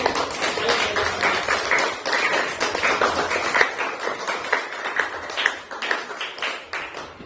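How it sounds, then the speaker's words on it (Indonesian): A primary school class claps together in a classroom, a lively ragged patter of many hands lasting several seconds, fairly close and without talk over it. "beri aplaus semua untuk semuanya terlebih dahulu"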